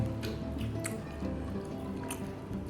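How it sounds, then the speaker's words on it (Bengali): Lemon juice squeezed over a prawn dish at home, a few soft wet drips and squishy squirts over a low steady background hum, close and quiet, with no talking. "একটু লেবু দিয়ে নেবো"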